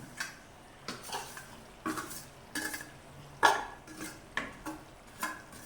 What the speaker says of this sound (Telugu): బెల్లం వేసేసి మనం కలుపుకోవాలి.